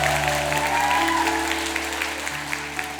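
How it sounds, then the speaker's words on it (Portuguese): A church congregation applauds during a Pentecost vigil sermon, a steady wash of clapping held at an even level for about three seconds, with a sustained musical tone underneath. "Pode aplaudir isso, aplauda isso, aplauda."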